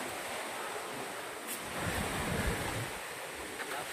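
Ocean surf rolls in under steady wind buffeting the microphone at a lakeside viewing deck, a continuous wash of waves with no voices.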